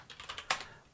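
Quick keystrokes on a computer keyboard spelling out a word, about five light clicks in an even rhythm ending in a louder, sharper key press, close and clear with no talking.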